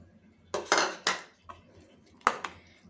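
Chopped apple and pomegranate seeds dropped into a glass of bael sherbet, heard as a short cluster of close clinks and taps of a spoon against the vessel, with no talk.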